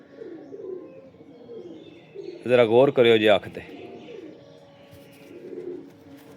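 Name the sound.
black pigeon pair cooing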